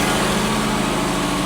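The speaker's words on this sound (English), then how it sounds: "Now it's revving up." A Lexus LS400 engine, a car that had been struggling to stay running and smoking, holds a loud, steady, close-up drone with a fast rhythmic pulse, sounding more like a sustained high idle than a distinct rev.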